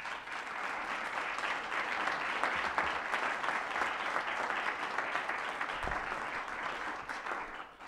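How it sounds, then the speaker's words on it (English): Continuous, moderately quiet audience applause for county candidates at a League of Women Voters debate in a meeting room, holding steady for about eight seconds before tapering slightly. "please give them a round of applause"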